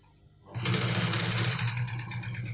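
A sewing machine starts up and runs steadily, stitching along the edge of fabric while taping a lapel and neckline, loud and close with a fast, even mechanical buzz.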